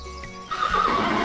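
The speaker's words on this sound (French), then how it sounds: "Les poneys vont tout doucement." A pony at a riding lesson lets out a loud neigh while hooves clip-clop nearby. The whinny swells in halfway through and carries to the end.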